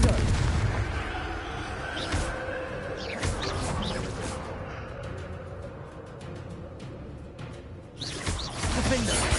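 Confringo blasting curse explosions from a Harry Potter-style video game, heard as a dense, continuous barrage of booming blasts and crackling impacts with mechanical clatter, loud and close throughout.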